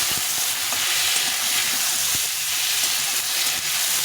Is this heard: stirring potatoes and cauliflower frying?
yes